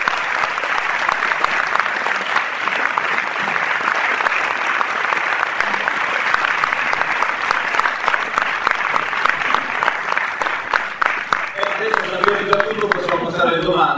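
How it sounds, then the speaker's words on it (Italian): Sustained, dense applause from a large audience at a talk by an Italian astronaut, loud and steady throughout, with a few voices starting to talk near the end. "quindi gli farei un grande applauso."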